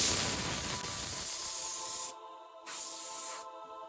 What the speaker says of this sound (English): So I'm gonna hit that with the old air hose.